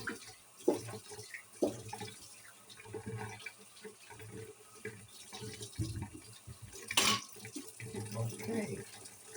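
Potatoes washed under a running tap, with faint, uneven splashing and trickling water interrupted by soft handling knocks.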